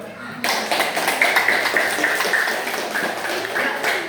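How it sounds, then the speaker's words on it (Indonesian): A group of students claps together in a classroom lesson, a dense, steady patter of many hands that begins abruptly after a short silence and stays fairly loud throughout. "Coba semua tepuk tangan dulu."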